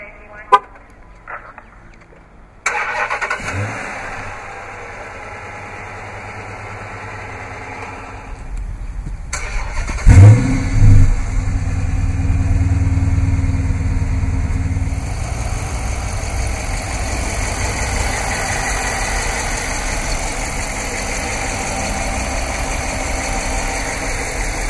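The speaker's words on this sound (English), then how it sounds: "to operate the remote start, just double press the remote start button on the key fob." A 2013 Dodge Charger R/T starts by remote from the key fob after a few quiet seconds with small clicks. A strong engine catch follows, then a steady idle that settles and runs on to the end.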